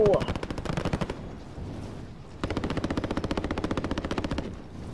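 Automatic gunfire in the Call of Duty Warzone video game comes in two loud, rapid bursts with a short pause between them.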